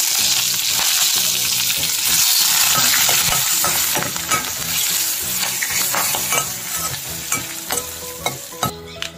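Dried red chili, a pinch of asafoetida, cumin and a sprig of curry leaves crackle in hot oil for a raw mango rasam tempering. A loud, dense sizzle runs throughout and thins toward the end into separate sharp pops.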